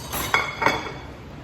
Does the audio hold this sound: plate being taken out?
yes